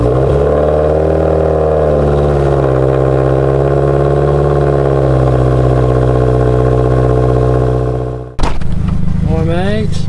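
2015+ Subaru WRX with an axle-back muffler delete cold starting, a loud raspy high idle that slowly settles, then cuts off abruptly before another brief engine sound while voices speak.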